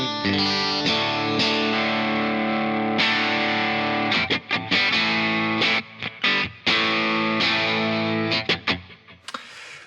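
Electric guitar played through a Timmy overdrive pedal gives gritty, lightly distorted chords and single notes, ringing with delay and reverb, sustained passages broken by choppy picked stabs.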